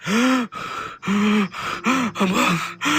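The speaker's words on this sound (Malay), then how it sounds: "Isteri saya tercungap-cungap bernafas." A woman gasps for breath in repeated strained, voiced inhalations, about five or six labored gasps in close succession, loud and near.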